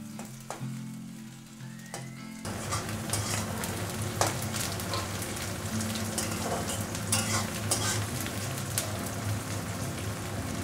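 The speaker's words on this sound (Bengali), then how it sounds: "পেঁয়াজটা একটু হালকা ভেজে নেব" Sliced onions sizzle lightly in hot oil with a little nigella seed, a steady crackling fry with occasional stirring scrapes, close and continuous after a quieter start.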